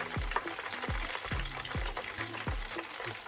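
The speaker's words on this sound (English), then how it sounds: "frying 4 pieces chicken" Besan-coated chicken pieces, dusted in gram flour and plain flour, sizzle steadily in hot oil, with a dense continuous crackle and a few soft, rhythmic low thumps.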